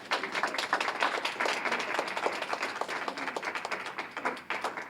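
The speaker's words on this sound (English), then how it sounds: "Could we have another round of applause for our legislators?" Applause for legislators at a disability rights press conference, a modest round of clapping from a small crowd, fairly faint and continuous for several seconds.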